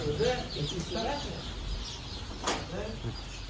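Chickens cluck softly nearby at a chicken coop amid a busy outdoor background, with people talking over them.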